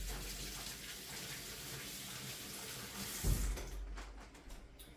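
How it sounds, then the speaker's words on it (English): Tap water runs in a steady, soft hiss as hands are rinsed clean of egg in a kitchen, with a brief louder splash partway through before the flow continues. "let me rinse my hands from the eggs"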